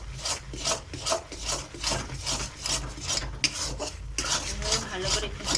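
Rice naru mixture being stirred in a wok, a repeated rhythmic scraping of a spatula against the metal pan, close and fairly loud with no talking.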